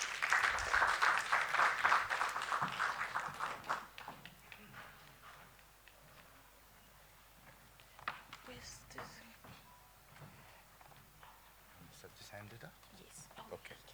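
Audience applause for the panelists and moderator at a symposium, a loud burst of clapping in a hall that fades after a few seconds into murmuring, footsteps and scattered voices.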